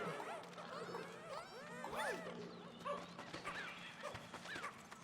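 A puppy-like creature in Pikmin 4 gives a string of high, rising and falling yips and whimpers over game music, with a voice speaking at times.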